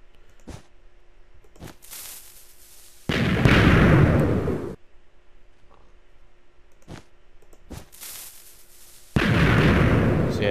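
Fireworks from a Minecraft mod launch and burst in game, with a few sharp pops followed by two loud, crackling explosion bursts each lasting about a second or more, separated by quieter stretches.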